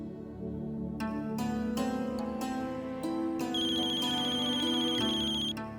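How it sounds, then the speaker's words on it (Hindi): A phone ringtone plays loud and clear for about six seconds as a melodic tune of repeated chimed notes, with nothing else over it. "जरूरी फोन आ रहा है"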